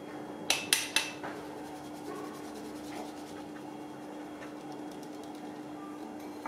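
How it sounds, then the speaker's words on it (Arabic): Cake batter being mixed in a bowl. It opens with three sharp clinks of a utensil against the bowl, then settles into faint, steady scraping and stirring. "دابا غادي نخلط كلشي مزيان"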